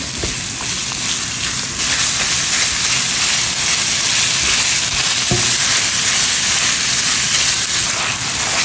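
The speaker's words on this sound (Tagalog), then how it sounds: "Sunod natin guys ang karne picada o giniling. Ayan. Gigisa natin mabuti." Ground meat sautés in a hot pan for a Filipino stuffed-eggplant dish, giving a steady, loud, close sizzle and crackle throughout, with a brief clack of stirring near the middle and no talking.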